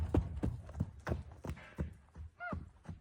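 A yearling filly runs in circles, her hooves thudding in a steady galloping rhythm, about seven strikes at fairly even intervals, with a brief squeal or whinny near the end.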